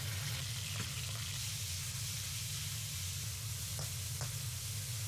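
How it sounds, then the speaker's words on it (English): Beef stir-frying in hot vegetable oil gives a loud, dense, continuous sizzle with a low rumbling hiss and a few faint stirring scrapes. "Once the oil is hot, add all the beef and stir fry rapidly."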